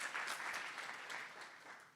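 Distant, faint applause from the audience at an evening lecture on press freedoms, steady clapping that slowly fades over two seconds.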